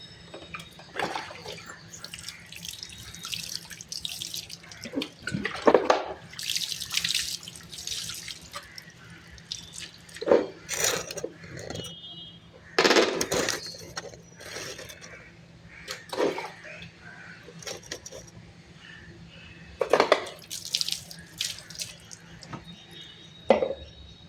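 Running water rinses conditioner out of long hair, splashing and dripping from a tap in irregular bursts and trickles throughout, fairly close, with no talking.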